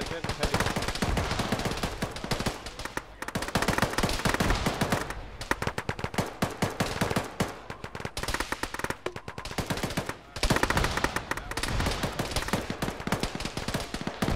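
Sustained gunfire in the military shooter game Arma during a ShackTac squad session, with rapid machine-gun bursts and repeated gunshots throughout, loud and dense.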